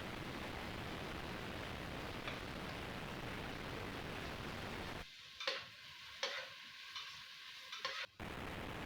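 Garlic, onion and tomato sautéing in a pan for pork sinigang: a steady hiss of frying fills most of the stretch, then quieter moments broken by a few stirring scrapes, near and fairly faint, no talking.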